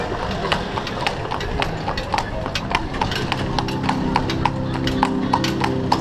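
Hooves of a horse pulling a carriage clip-clop in a steady rhythm on a street, moderately close, over a low engine-like rumble and background noise. Faint voices can be heard.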